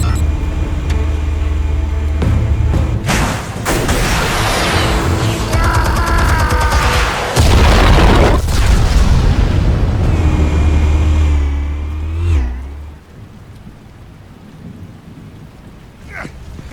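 Loud, sustained blasts and rumbling from explosives detonating in an action game, heavy low-end booms rolling for about twelve seconds before fading to quieter crackling debris.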